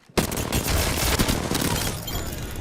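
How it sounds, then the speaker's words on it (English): A headshot sound effect from a video game: a sudden dense burst of rapid gunfire-like cracks and impacts that starts abruptly and stays loud for a couple of seconds before easing slightly. "I just heard that guy's head explode so many times."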